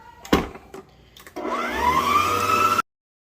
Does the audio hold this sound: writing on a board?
no